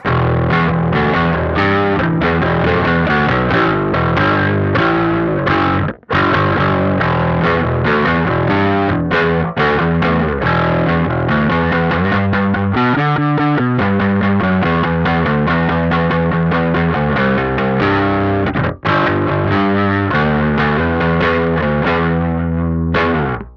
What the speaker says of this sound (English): let's go ahead and turn the clean blend to position 3, which is full clean blend